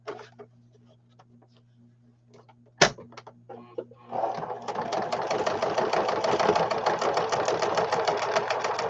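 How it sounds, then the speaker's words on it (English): A sewing machine runs a line of stitching down the center of fabric wings, starting after a few soft handling sounds and a sharp click, then whirring steadily with a fast, even needle rhythm, close and fairly loud. "And we're going to just do a line of stitching down here,"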